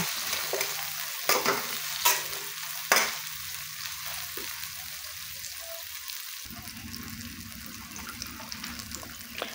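Sliced tomatoes and onions sauté in a pan for fish sinigang, giving a steady low sizzle and frying hiss broken by a few sharp stirring knocks early on, with a louder burst of sizzling near the end.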